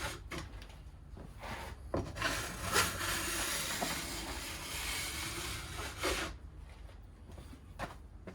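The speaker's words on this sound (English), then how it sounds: "There's a whole bunch of edge that's coming off, being sharpened." A file drawn along a ski edge held in a Swix edge guide, repeated rasping strokes that blend into a long scraping stretch, close and steady with no talking.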